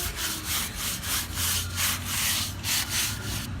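Stone being scrubbed clean during a stone installation job in Cocoa, Florida: steady back-and-forth rhythmic abrasive strokes, close and continuous, with no talking.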